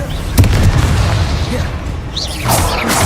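A Confringo blasting spell from the Hogwarts Legacy video game bursts with a loud boom near the start, followed by rumbling crashes and a second burst near the end, with game noise and voices mixed in.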